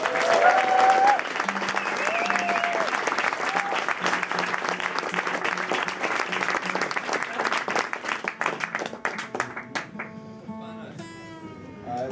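An audience at a concert at Eurosonic Festival 2013 gives the band a dense, sustained burst of applause. It swells loud at first, then thins out toward the end as a voice and a guitar come in.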